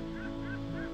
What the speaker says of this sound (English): There's the bird going past.